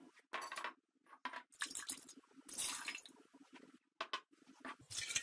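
Vinegar sloshing inside a glass jar being shaken by hand, in short irregular bursts of splashing and glassy clinks separated by brief pauses, close and fairly quiet.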